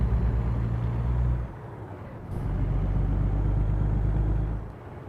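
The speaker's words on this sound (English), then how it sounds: "And there's now a truck behind us." Truck engine droning close behind in American Truck Simulator, a loud low rumble that drops away briefly, returns and fades near the end, with no talking.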